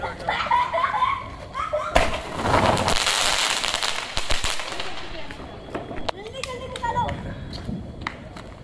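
Diwali firecrackers set off outdoors with students, bursting in loud crackling volleys over several seconds, with sharp pops standing out near the end, amid excited voices and children's chatter.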